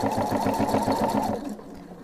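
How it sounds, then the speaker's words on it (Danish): A sewing machine runs steadily while stitching a pillow seam, its rapid mechanical chatter close and continuous before cutting off near the end. "der vender vi og syr rundt og over på den anden side"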